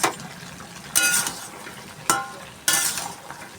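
Soybean and potato curry being fried and stirred in a pan, sizzling oil with several sharp bursts as the spoon scrapes and turns the food, close and without talk.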